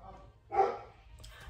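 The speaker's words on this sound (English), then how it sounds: "My dog is going off at the door." A dog barks once at the door, a single short, fairly faint bark in a quiet room.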